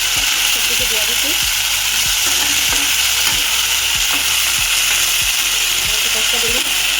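Drumstick and potato pieces fry in a spiced pan with panch phoron, giving a loud, continuous sizzle alongside repeated scraping stirs and light clinks, while a voice talks now and then.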